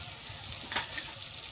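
Spices sizzle softly in oil in a pan during sautéing, a low steady crackle with a brief brighter spatter burst near the middle, close but fairly quiet.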